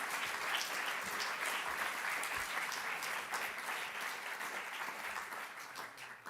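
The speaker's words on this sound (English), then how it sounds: "I think the extent of applause says it all, really." Sustained audience applause fills the room after a talk on global learning and social change ends, steady and dense clapping throughout with no speech over it.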